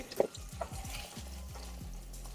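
Raw prawns go straight into hot white oil for a prawn pulao, giving a soft, steady sizzle with faint clinks near the start, heard close and alone.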